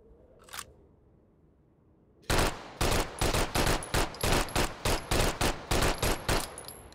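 Gunfire in the VR shooter Hot Dogs, Horseshoes & Hand Grenades rings out as a fast, steady string of loud, close shots after a faint early click and a brief quiet stretch.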